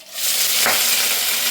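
Dried red chillies and shallots drop into hot oil in a pan, setting off a loud, close, steady sizzle with a brief stirring scrape partway through and no voices.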